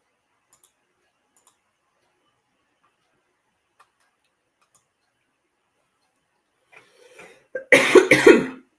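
Several faint clicks are scattered across near silence, then a sudden close fit of loud, rough coughing closes things out.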